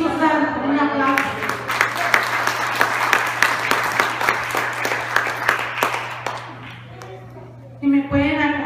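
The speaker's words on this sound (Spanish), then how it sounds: "Un aplauso." A church youth congregation bursts into sustained applause, loud, dense clapping lasting several seconds that then fades, with a voice speaking briefly before and after.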